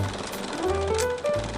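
Sewing machine stitching a fleece vest about five millimetres from the edge, a dense, fast mechanical whirring hum that briefly shifts pitch, loud and close with no voices.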